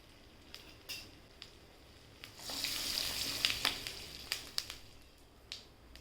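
Cumin seeds hit hot butter in a pan and start sizzling, a soft crackling burst that swells and continues with scattered pops and spatters, fairly quiet and close.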